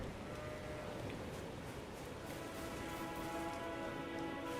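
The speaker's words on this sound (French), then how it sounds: "Il y a des petits moutons." Sheep bleat faintly in a video game, Elden Ring, over a steady, dense ambient wash, with a few soft calls scattered through the continuous background.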